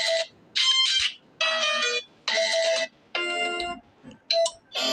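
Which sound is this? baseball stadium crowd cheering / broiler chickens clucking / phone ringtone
phone ringtone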